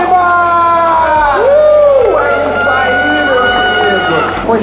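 Lively crowd noise at a Latin American fighting video game tournament in Curitiba, with steady cheering and shouting throughout and excited voices rising and falling over it.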